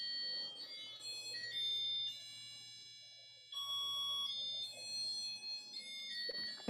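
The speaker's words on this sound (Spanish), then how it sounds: "A ver, hay como una alarma, ¿no?" Alarm going off on a device during an online seminar, a steady high beeping tone pattern that pauses briefly midway and resumes, with faint talk underneath.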